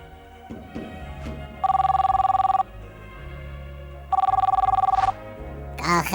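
A mobile phone rings in two long bursts of rapid warbling electronic tone, loud and close, separated by a few seconds of low rumbling background, with a brief voice-like sound near the end.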